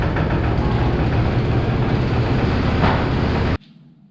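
An MSA 400 engine runs steadily while warming up, a loud continuous low rumble with a fast chugging pulse that cuts off abruptly near the end, leaving faint background noise.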